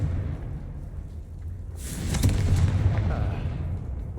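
A Confringo fire spell explodes in Hogwarts Legacy, a sudden rumbling blast that swells and lingers over a low game ambience, moderately loud with no voices during the burst.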